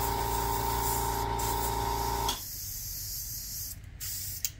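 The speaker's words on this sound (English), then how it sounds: "Just keep spraying until the green's all gone" An airbrush sprays paint in a steady hiss onto a German WWII Sd.Kfz.251 model, clearing out green paint, then cuts off partway as a softer, quieter air hiss carries on alone.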